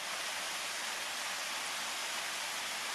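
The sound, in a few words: waterfall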